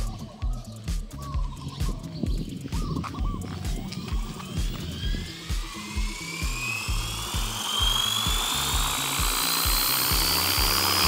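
A JR Forza 450 RC helicopter spools up and lifts off, its rotor chop and motor whine climbing steadily in pitch and loudness over several seconds, close by and continuous, with no talking.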